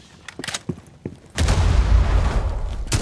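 A Rainbow Six Siege grenade goes off in a heavy, close blast after a few sharp clicks and taps, its rumbling boom and debris lingering loudly before another sharp hit at the end.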